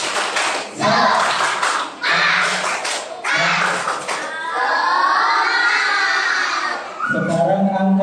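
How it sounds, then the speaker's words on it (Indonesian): Children at a closing ceremony for an Islamic short-course boarding programme do a rhythmic group spirit clap, bursts of clapping in patterned beats alternating with chanted voices, loud and close. "Tepuk semangat."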